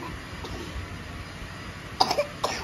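A child coughs a few times close by, a short cluster of sharp bursts followed by one more cough, in a quiet home.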